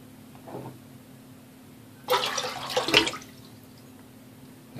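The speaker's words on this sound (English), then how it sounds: "I'm going to go ahead and stop right there and empty out my bowl." Water emptied from a shaving lather bowl, a brief splashing pour lasting about a second, close and fairly loud, preceded by a faint trickle in a quiet room.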